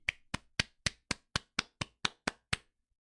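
Eleven crisp, close hand claps in an even, steady rhythm that then stop, leaving near silence.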